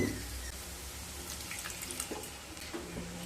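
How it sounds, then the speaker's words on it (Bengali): A small splash of water poured into frying masala for a pomfret masala curry, a soft steady trickle and faint sizzle heard close up, with no talking. "মশলাগুলো যখন হালকা কষানো হয়ে যাবে তখন দিয়ে দেব খুব সামান্য জল।"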